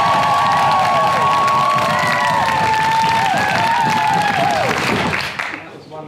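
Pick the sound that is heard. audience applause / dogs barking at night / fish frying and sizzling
audience applause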